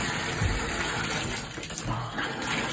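Water running into a bathtub, a steady splashing gush from the tap that continues loud and unbroken with slight surges in intensity.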